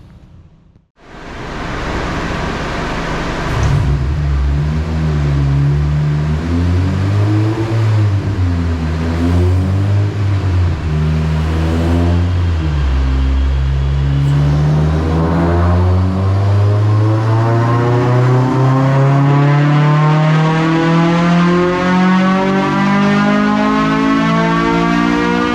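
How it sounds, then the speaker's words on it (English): An 8th-gen Honda Civic Si K-series engine on a dyno starts up, wavers through a few revs, then climbs in one long loud pull as its pitch rises steadily, with no voices. "So I'll get it up and running, get it warmed up to the right temperature, and we'll do 2 pulls and see how it performs."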